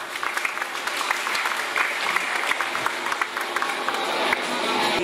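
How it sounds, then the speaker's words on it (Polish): Crowd applause at an outdoor family bicycle rally award ceremony, a dense steady patter of many hands clapping at moderate distance, sustained for several seconds. "I jeszcze raz brawa."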